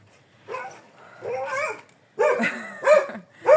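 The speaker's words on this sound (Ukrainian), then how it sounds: "собака голосніша гавка, ніж я балакаю" A dog barks repeatedly in short, loud bursts at a village farmyard, several sharp barks close by with brief pauses between them, no talking.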